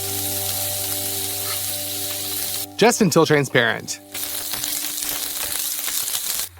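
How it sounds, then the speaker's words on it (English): Onion frying in olive oil in a frying pan on the stove gives a steady soft sizzle throughout, briefly masked by a speaking voice midway before the crackle carries on alone. "and fry the onion"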